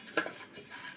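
A spoon mixes spices together in a bowl for masala pori, giving a brief, faint clink and scrape of metal on the dish.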